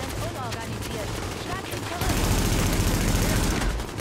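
Machine gun fire in The Division, a shooter video game: bursts of automatic shots that grow into a heavier, louder, unbroken barrage halfway through, with a voice faintly underneath early on.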